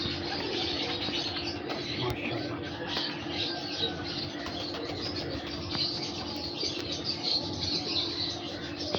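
Breeder pigeons coo and flutter their wings at close range while someone speaks briefly nearby, over a steady background hum.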